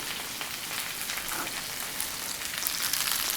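Chopped onion sizzles steadily in a hot pan for a Cajun stir fry with rice, a dense, even crackle that holds close and loud throughout without pause.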